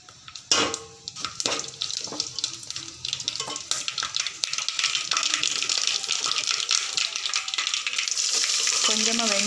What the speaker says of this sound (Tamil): வத்தலும் கடுகும் நல்லா காஞ்சதுக்கப்புறமா